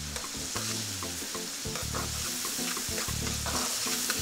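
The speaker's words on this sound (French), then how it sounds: "Et maintenant, je mets tous les ingrédients dans l'huile de palme." Ingredients sizzling in palm oil with garlic, a steady frying hiss with stirring scrapes over low tonal background music.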